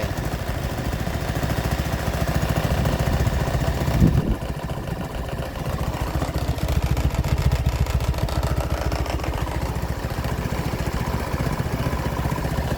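A small engine idles steadily after an engine-bay degreaser cleaning, a continuous close chugging hum with an even rapid pulse and a slight change in tone partway through.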